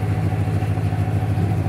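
A rebuilt Ford 351 Windsor V8 in a 1994 F-150 idles just after firing up, a loud, close, steady rumble with an even throbbing beat.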